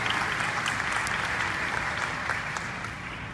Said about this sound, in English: Mediocre clapping is cool